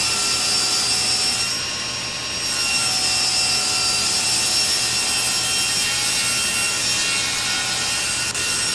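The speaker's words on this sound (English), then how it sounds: "first I run my factory edge against the fence and make one parallel trimming cut" A saw makes a parallel trimming cut along the factory edge of an MDF sheet held against a fence, giving a steady, even whine that holds throughout with a brief dip near the start.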